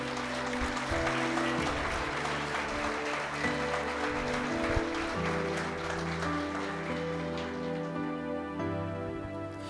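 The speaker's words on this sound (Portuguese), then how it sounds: "aplauda o Senhor aí" A church congregation applauding during a service, dense sustained clapping from a large crowd under musical tones, fairly loud and continuous throughout.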